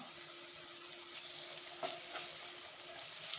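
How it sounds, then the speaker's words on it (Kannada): Garlic ginger paste fries with onion in a pan for Muslim-style biryani, giving a steady broadband sizzle with faint stirring scrapes, moderately close and continuous, with no talking. "ಬೆಳ್ಳುಳ್ಳಿ ಶುಂಠಿ ಪೇಸ್ಟನ್ನು ಚೆನ್ನಾಗಿ ಫ್ರೈ ಆಗುತ್ತೆ"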